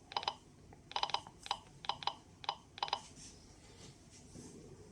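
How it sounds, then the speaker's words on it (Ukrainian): An MKS-01SA1M dosimeter clicks near a radiation source, giving bursts of sharp close clicks in irregular clusters, then quieter near the end. "Чуємо, вже клацання збільшилось."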